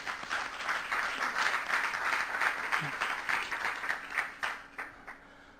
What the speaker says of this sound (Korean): 한번 박수 한번 부탁드릴게요